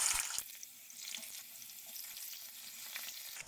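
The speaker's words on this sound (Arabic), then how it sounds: "هجيب الوك بتاعتي وانزل فيها بالزيت. هبدا بقى انزل بالبطاطس في الشرايح بتاعتي" Potato slices frying in oil in a wok give a faint, steady crackling sizzle after a brief louder burst at the start, heard close and alone.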